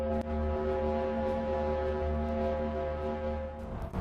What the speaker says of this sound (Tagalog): Dahil sa computer conversion, naririnig natin ang malalalim na ugong ng Venus.